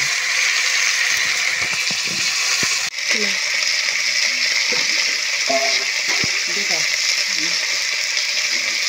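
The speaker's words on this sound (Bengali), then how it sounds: "ভালো করে ফুলকপি ভেজে নেব।" Cauliflower frying in a pan, a steady broadband sizzle with occasional stirring clatter and a sharp knock near the start, continuing throughout.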